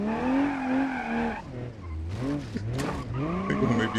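Tires squeal and skid as a car drifts in BeamNG.drive, a racing game, with a revving engine whose pitch rises and dips across several slides, loud and close, with no talk over it.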